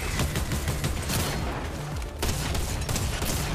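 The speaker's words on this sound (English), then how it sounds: "Shotgun go crazy." A shotgun fires in the video game Fortnite amid a loud, dense in-game battle, with heavy repeated blasts and rumbling booms filling the whole stretch, no talk.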